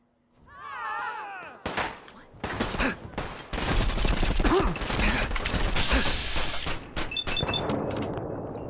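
Gunfire rattles in Fallout 4's Nuka World, with rapid bursts and single shots close and loud over several seconds amid game effects and a brief vocal sound.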